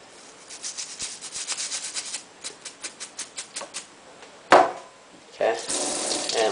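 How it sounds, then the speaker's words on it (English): Running tap water rinses a metal miniature model to wash away leftover stripped paint, with a rhythmic series of scrubbing splashes followed by a louder gush of water from the faucet, close and steady. "just run underwater and go through it again just to get all the leftover paint"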